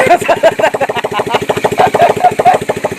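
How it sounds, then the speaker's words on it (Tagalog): Rapid, loud, close-up popping of a single-cylinder Bajaj CT100 motorcycle engine, freshly overhauled and running with no exhaust pipe fitted, hammering in an even staccato rhythm without pause. "Wala pang tambucho yan pero maganda na yung andar yun."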